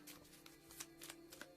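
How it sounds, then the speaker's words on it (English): A deck of oracle cards shuffled by hand, soft riffling and sliding bursts repeating in quick succession, quiet and close with no talking. "So let's shuffle them up."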